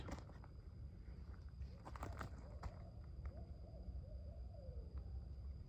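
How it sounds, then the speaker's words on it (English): An owl hoots faintly several times in the distance at night in a wooded hollow, under a steady hiss and scattered close rustles and clicks. "There goes that owl."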